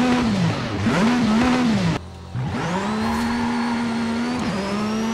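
Aston Martin Valhalla engine in Forza Horizon 5 launching hard, a loud high-revving whine that climbs, drops at a gear change, then pulls again with rising pitch, close and alone.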